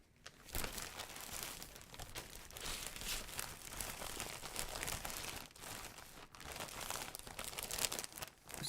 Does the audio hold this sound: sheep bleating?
no